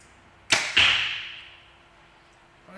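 Arrows loosed from a 2022 Bowtech SR350 compound bow: two sharp releases in quick succession, each a crisp snap with a hissing whoosh that fades over about a second, heard up close outdoors.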